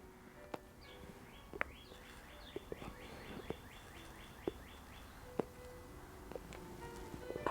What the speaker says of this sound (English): got a cardinal there chirping away.